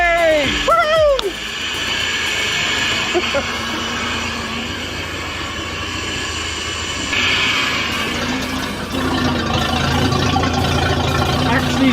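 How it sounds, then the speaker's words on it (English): A boat's loud engine catches and settles into a steady, rumbling idle, with a voice exclaiming near the start and speaking over the running motor. "Cannot believe the engine started that easy."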